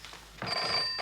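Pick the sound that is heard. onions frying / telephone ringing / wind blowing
telephone ringing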